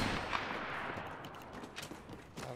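Rapid gunfire from the Apex Legends video game, a dense continuous burst of shots with sharp cracks sustained across the whole moment at steady loudness, with no talk over it.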